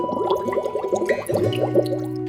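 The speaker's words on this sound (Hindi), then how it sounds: "तभी पानी के अंदर से हलचल शुरू हुई।" Cartoon water stirs and bubbles in a pond, heard as a quick run of bright, bubbly blips over sustained tonal background music.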